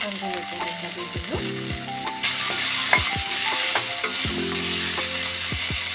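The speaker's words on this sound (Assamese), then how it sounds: "ইয়াতে মই পিঁয়াজ দি দিছোঁ আৰু অকণমান সময় লৰাই পেলাই ভাজি ল'ম আৰু ইয়াতে শুকান জলকীয়াও 2টা দি দিছোঁ" Onions frying with ginger, garlic and two dried chillies sizzle loudly and continuously, with repeated scraping stirs of a spatula against the pan and the sizzle swelling as more goes in.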